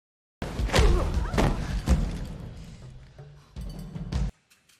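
A security guard is punched unconscious during a bank robbery in a Western film, heard as a few heavy thuds and impacts over a rumbling score, ending abruptly.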